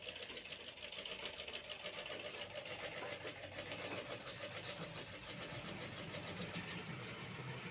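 A treadle-powered pedal sewing machine runs steadily during a power cut, giving a continuous fast mechanical whir with a rapid regular ticking rhythm, close and fairly quiet, with no talking.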